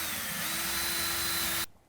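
A power drill with a 25/64 bit whirs at a steady high pitch as it pre-drills into wood, running for about a second and a half before cutting off abruptly.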